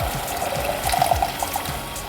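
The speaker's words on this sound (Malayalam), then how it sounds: "അത് പിഴിഞ്ഞ് വെള്ളം ഒഴിക്കാം." Squeezed tamarind water is poured into a pot for rasam, making a close, steady splashing trickle with bubbly gurgles throughout.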